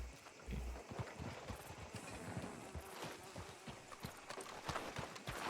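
Horse hooves clip-clop steadily as a horse arrives in the video game Red Dead Redemption 2, a close, even trotting rhythm that runs through the whole stretch over low outdoor ambience.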